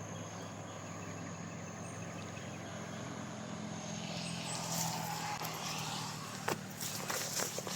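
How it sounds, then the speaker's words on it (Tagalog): Vehicles passing along a nearby road: a faint, steady low rumble that swells gradually toward the middle, with soft hiss and a few light knocks near the end, no talking. "Kaya narinig niyo may mga sasakyan, oh,"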